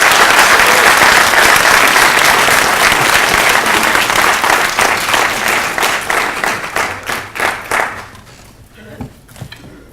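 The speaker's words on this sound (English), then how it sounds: "join me in giving the organizers a round of applause." An audience applauds the organizers at a Jackson State University event, a loud, dense round of clapping that thins into scattered claps and fades near the end.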